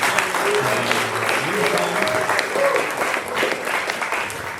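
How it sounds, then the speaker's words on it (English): A small audience applauds a soloist named Sophie at a jazz band's set in a club, a steady wash of clapping filling the room alongside scattered voices and lingering musical tones. "can we give a big round of applause for Sophie on the top?"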